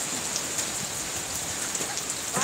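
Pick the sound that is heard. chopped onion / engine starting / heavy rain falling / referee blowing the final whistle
heavy rain falling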